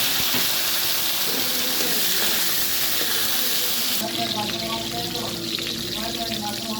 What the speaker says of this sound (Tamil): நல்லா காஞ்சிட்டு இப்போ வெண்டைக்காவை பொரிச்சு எடுங்க.